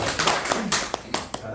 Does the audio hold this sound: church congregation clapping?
yes